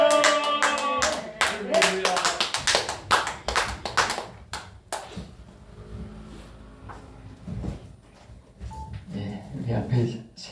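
A church congregation applauding to welcome the pastor, a loud burst of close, dense clapping at the start that fades out, followed by a voice speaking.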